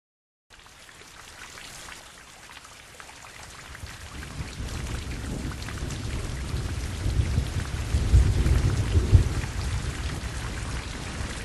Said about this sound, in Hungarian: Szakadt az eső, ami egész estig tartott